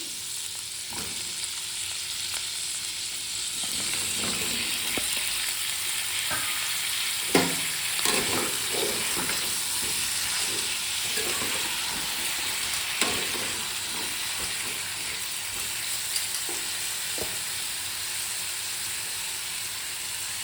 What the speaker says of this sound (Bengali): সবজি দিয়ে দিচ্ছি